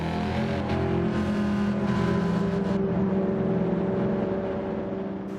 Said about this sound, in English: We are in the TCR livery Subaru WRX, starting from the back of the grid